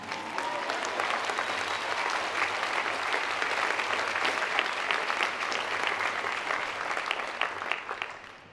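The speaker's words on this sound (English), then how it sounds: "This is where you clap." A large audience at a Harvard University speech breaks into sustained applause, a dense, loud wash of many hands clapping that holds steady for several seconds before thinning out at the end.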